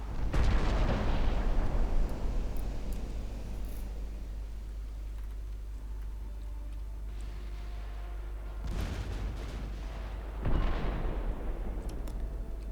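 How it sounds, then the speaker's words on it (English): Heavy warship broadside guns booming in a naval battle in Ultimate Admiral Dreadnoughts, a loud opening salvo fading into rumble, then two more distant deep blasts later, no voices. "about to get a clean broadside shot for some more flooding"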